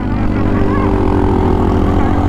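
A motorcycle engine labours up a steep mountain road in Bakun, Benguet, a steady loud drone with strong low harmonics held throughout, close and continuous with no talk over it.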